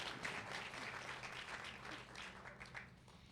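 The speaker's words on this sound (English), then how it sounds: "And can we have just one more round of applause for all of our board members, please?" Audience applause for board members at a women's summit, a steady, fairly faint patter of many hands clapping from a seated crowd, with no talk over it.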